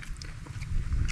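Crunchy biting and chewing of crispy fried silver fish with the skin and flesh removed, fillet style, close to the mic, with soft irregular crunches over a low rumbling background.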